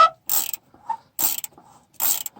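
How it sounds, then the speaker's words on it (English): A ratchet wrench, 14 mm or 9/16 inch, cracking loose the upper front shock absorber nut on a Mitsubishi Delica L400, heard as three close, loud bursts of quick clicking. "take an upper nut off before doing the bottom. 14 mil or 9/16 wrench. I just try to crack it loose."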